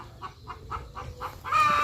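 Chickens cluck in a rapid, regular run of short calls close by on a Thai vegetable farm, ending in a louder burst of squawking and flapping as a bird is grabbed.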